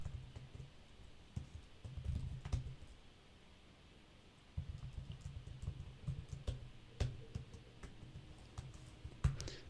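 Typing code on a computer keyboard: soft irregular key clicks in bursts, with a short pause in the middle, faint and close, no talking.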